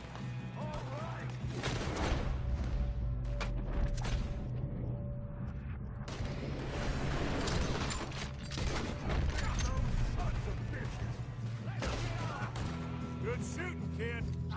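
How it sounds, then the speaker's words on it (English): Gunfight in Red Dead Redemption 2, first-person: loud, dense bursts of rifle and revolver shots crack repeatedly close by, with clattering mechanical noise and shouting voices mixed throughout the exchange. "Good shooting, kid."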